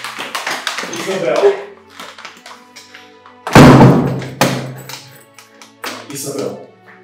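Someone knocks repeatedly on a door in quick bursts of sharp taps and heavier thumps, close by, mixed with people talking.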